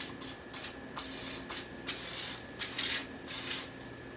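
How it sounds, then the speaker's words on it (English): Short bursts from a nearly empty cooking spray can, about eight quick hissing puffs in an uneven rhythm, close and fairly loud with pauses between them. "cooking spray in each one, just to be, oh, I'm about out of cooking spray"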